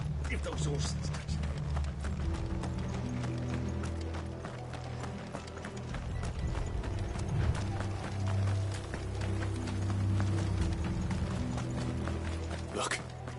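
Horses' hooves clip-clop at a steady trot in a Final Fantasy XVI scene, a continuous rhythmic clatter beneath a low rumbling background and character dialogue.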